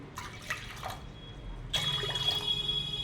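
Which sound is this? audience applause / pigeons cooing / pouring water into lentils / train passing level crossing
pouring water into lentils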